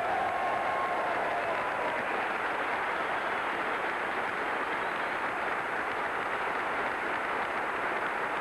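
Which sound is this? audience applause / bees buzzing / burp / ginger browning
audience applause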